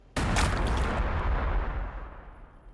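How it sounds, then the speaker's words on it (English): A grenade blast in the Warhammer 40,000 tabletop-style strategy game: one sudden loud boom with a crackling, debris-like burst that rolls on and slowly fades over a couple of seconds, with no talk. "How about we just grenade them?"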